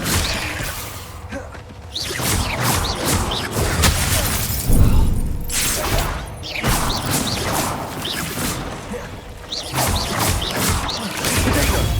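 Confringo blasting spell in Hogwarts Legacy firing repeatedly, bursts of shattering crashes and whooshing explosions arriving every few seconds, loud and close.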